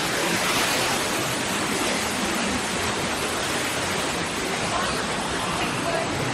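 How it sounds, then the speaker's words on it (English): Loud, continuous rushing of a waterfall beside a trail at Disney's Animal Kingdom, heard up close as a steady broadband roar that does not let up. "Had to cover my camera as I walked by that waterfall so it wouldn't get wet."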